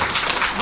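A church congregation applauds during a Sunday worship service, a short, dense burst of many hands clapping, loud and close.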